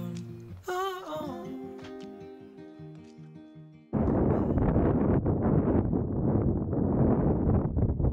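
Strong wind roars steadily against the microphone for the second half, loud and broadband, after a quieter stretch of music, on a sailboat at Espiritu Santo, Mexico.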